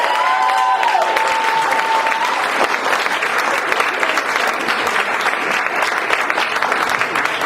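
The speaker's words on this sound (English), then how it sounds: "Let's make a lot of noise for SonnyD, guys" Comedy Store audience applauding a comedian from the San Francisco Bay Area, sustained dense clapping with some cheering that holds steady and loud throughout, without a break.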